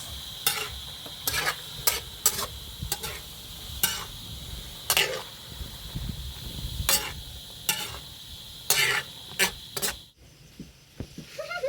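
String beans being stirred in a frying pan with soy sauce for adobong sitaw, quiet sizzling under a series of sharp, irregular scraping strokes of the utensil against the pan.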